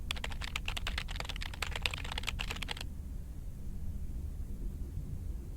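Video-game typing on a keyboard clatters in quick, dense key clicks for a few seconds, then stops abruptly, leaving only a quiet background hiss.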